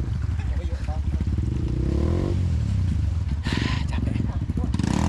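Motorcycle engine roaring steadily close by on a rough riverbed of large boulders, with mixed noise over the engine and voices talking.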